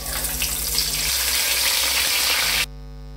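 Fenugreek seeds drop into hot oil for a Kerala-style fish curry, giving a loud, steady sizzle and crackle for a few seconds before cutting off abruptly into near silence.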